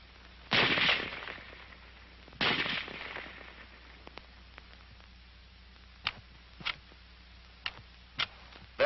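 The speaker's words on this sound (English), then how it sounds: "The rifle will fire each time the trigger is pressed until the magazine is empty." An M1 Garand rifle fires several sharp shots in succession until the magazine runs empty. Two loud blasts come first, then a string of shorter, fainter cracks and clicks spaced about a second apart, with no talk.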